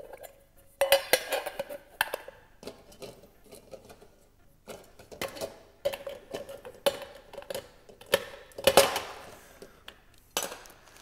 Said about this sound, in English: then you just pack your entire unit back away